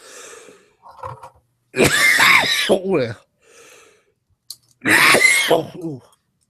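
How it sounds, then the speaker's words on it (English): A person coughs and clears their throat close to the mic, a couple of harsh rasping bursts separated by quieter breathy sounds. "I got a bit of a cough."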